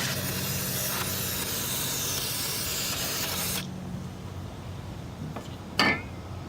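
Throttle body cleaner sprays into a car's throttle body as a steady, close aerosol hiss for about three and a half seconds. It cuts off, followed by a faint metallic clink.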